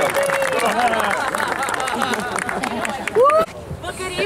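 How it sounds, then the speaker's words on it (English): An audience at the Santa Clara County Preservation Awards Night applauds as the county supervisor walks up to the stage: steady, dense clapping lasting throughout, with voices and chatter mixed into it. "we'll uh, just give her a round of applause as she makes her way up"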